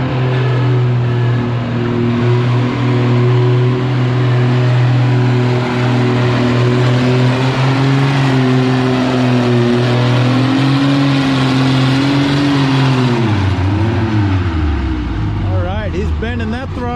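A pulling tractor or truck at a fall national pulling event, its engine held at full throttle in a loud, steady roar through a long pull, then dropping off sharply at the end, with an announcer talking over it.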